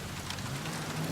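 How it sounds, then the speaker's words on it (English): Rain falling in the video game LA Noire, a soft steady patter under low background hum, fairly quiet, with a brief brighter splash near the end. "It starts raining."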